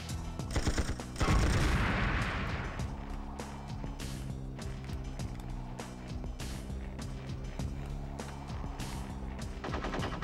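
Gunfire rattles through a James Bond Tomorrow Never Dies video game, with repeated sharp shots and bursts of automatic fire over a steady mechanical background, loud throughout with a heavy impact near the start.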